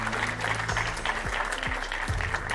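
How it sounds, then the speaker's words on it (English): Studio audience applause for two Members of the European Parliament after a televised debate on healthcare, a steady dense patter of clapping with low background tones, sustained throughout. "a round of applause for our two MEPs on The Ring"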